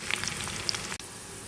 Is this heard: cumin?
yes